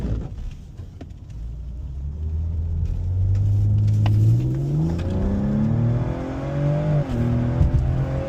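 A tuned Ford Explorer ST with intake and exhaust upgrades launches hard from a stop on a wet road, its engine rumbling and rising steadily in pitch through the gears, loud and close with wind noise behind.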